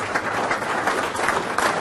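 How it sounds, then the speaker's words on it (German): An audience at a German business owners' meeting in Frankfurt on construction and facility management gives brief, dense applause, an even wash of many hands clapping together. "Das, glaube ich, ist auf einen Seite ein Applaus wert."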